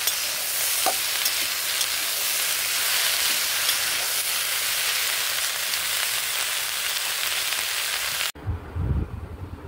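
Puthi fish chocchori with chopped onions sizzling and frying in a pan, with steady stirring keeping a loud, continuous crackle for most of the time before it cuts to a quieter, lower rumble near the end.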